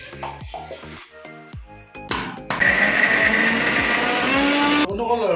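A small electric grinder whirs loudly and steadily for a few seconds, grinding a spice paste with onion, after some clinking and brief shuffling, then cuts off abruptly.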